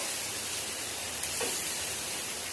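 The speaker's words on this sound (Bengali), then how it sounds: "একটু পেঁয়াজ লঙ্কা কুচি দিয়ে দেব। সামান্য একটু এটা ভেজে নেব।" Chopped onion and chilli fry in a pan for butter chicken, giving a steady, even sizzling hiss that stays constant throughout with no talking.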